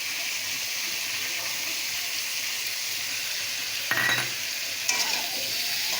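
Spice paste of cumin and turmeric frying in a pan with potato and banana, a steady close sizzle with two brief bursts of stirring and scraping near the end; a voice is faintly heard under it.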